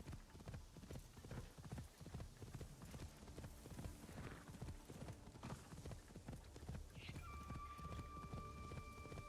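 Horse hooves galloping in Assassin's Creed Shadows, a steady rapid clip-clop rhythm throughout with a brief tonal whinny-like cue near the end, fairly quiet under light game ambience.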